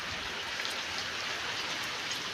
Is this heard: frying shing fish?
no